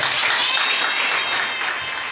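Church audience applauding to welcome someone speaker, dense continuous clapping with a few cheers, loud and close for the whole short stretch.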